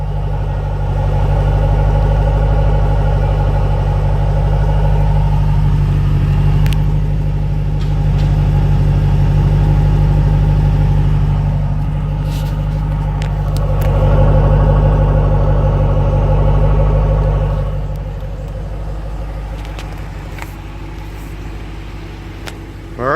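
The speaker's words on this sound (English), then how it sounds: "I'll let you hear the exhaust sound." Exhaust of a 2008 Shelby GT, a deep steady idle rumble with a few slight rises in revs, loud and close, no voices.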